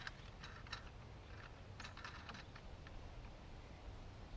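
Soft, repeated ratcheting clicks come from a screw being tightened by hand on a universal car phone holder, quiet and close, in irregular bursts with no talking.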